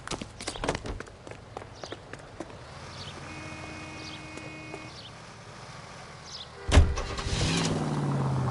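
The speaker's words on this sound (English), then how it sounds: "Come on, we got a ride. Get in and drive." Car driving in the 1940s Los Angeles crime game L.A. Noire, a steady low engine drone with scattered clicks and footsteps, then a sharp thump near the end as the engine swells louder.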